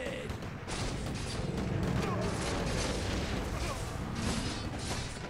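Mortar teams fire in a Warcraft 3 Reforged battle, a steady rumble of booming blasts and battle noise that runs throughout at moderate loudness, with some voices partly mixed in.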